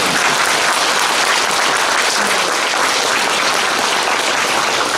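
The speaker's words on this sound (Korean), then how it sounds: "김춘호 회장님께 이럴 때는 박수 한번 보내주십니다." Steady, dense applause from a gathering at a year-end thanksgiving event at a Buddhist meditation center, honoring chairman Kim Chun-ho, loud and unbroken throughout.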